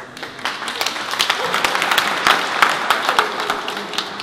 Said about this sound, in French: Vous pouvez l'applaudir avant qu'il ne parte.